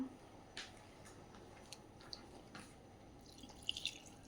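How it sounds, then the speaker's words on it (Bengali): Water drips as garden plants are watered in the early morning, making sparse, soft individual drops and a few quick closer patters near the end, all faint and without voices. "গাছগুলোতে একটু জল দিচ্ছি"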